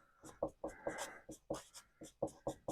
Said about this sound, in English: Writing is just so painfully slow.